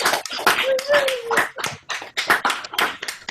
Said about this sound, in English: give everyone a round of applause for an amazing performance today